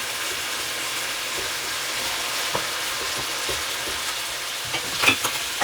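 Pork fries in its own rendered fat in a pan, making a continuous close sizzle with light stirring scrapes and small pops that grow near the end. No one speaks.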